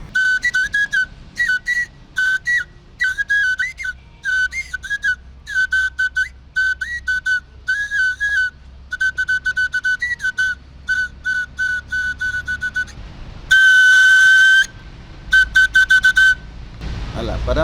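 A hunter's whistle signal used by Dagara archers to find each other when lost, heard as a long series of short, shrill whistled bursts in rhythmic patterns, then a sustained high tone and a final quick flurry, loud and close.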